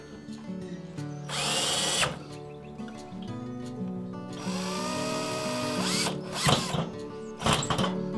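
A cordless drill tightens nuts on a Weber One Touch kettle grill cleaning system, sounding as several close, loud whirring bursts that rise in pitch, with clicks and handling noise between runs.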